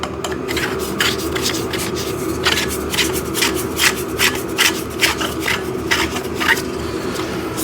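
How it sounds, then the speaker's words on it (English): Metal backdrop stand poles are twisted and screwed together by hand, a close, continuous rubbing and grinding of threads with short scraping strokes at a steady pace and no voices. "I love how it like easily screws together."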